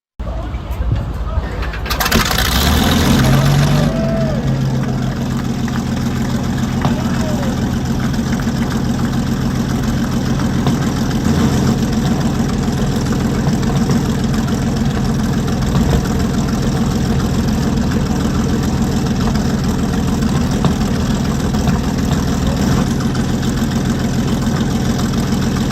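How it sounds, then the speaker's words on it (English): German World War II Panther tank with a 690 hp, 23-liter engine started by inertia hand crank at Aus Armorfest 2022: a brief whir and catch, then the engine fires and settles into a loud, steady, rumbling idle that continues throughout. "initiates a Panther Tank at Aus Armorfest 2022 with an inertia hand crank"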